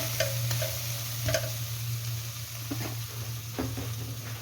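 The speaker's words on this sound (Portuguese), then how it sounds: "Nós vamos fritar o bacon, tem gordura" Bacon frying in its own fat in a pan, a steady close sizzle with a low hum underneath and a few light scrapes of stirring.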